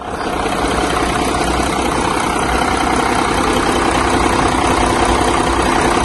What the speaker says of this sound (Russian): Значит, работа мотора.